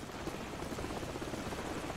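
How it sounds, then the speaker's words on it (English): Helicopter in Call of Duty 4: Modern Warfare, a faint steady rotor rumble and whir heard alone for a couple of seconds in the distance. "Helicopter's back."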